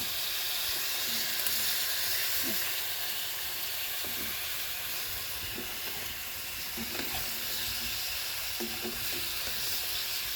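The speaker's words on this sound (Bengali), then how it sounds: "একটু নাড়াচাড়া করে ঢাকনা দিয়ে রাখবো" Fish and Malabar spinach fry in a pan with a constant, fairly quiet sizzle, while occasional soft scrapes from stirring come through at intervals, with no voices.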